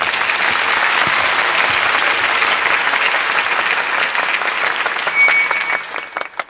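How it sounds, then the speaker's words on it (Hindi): Audience applause rings out at a poetry recitation in a Hindi film scene, loud, dense clapping sustained for several seconds before thinning out near the end, with no speech over it. "तालियां।"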